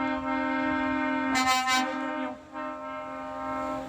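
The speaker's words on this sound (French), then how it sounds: "Est-ce qu'il va nous faire un coup de klaxon?" Truck horn blasting in a convoy of French truckers, a loud sustained harmonic blast with a brief louder burst in the middle, held steady for several seconds over the steady drone of the truck.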